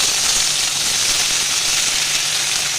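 Steady broadband sizzling of onion, green chilli, capsicum and tomato frying in a pan, a constant bright hiss with no talk, close and fairly loud throughout.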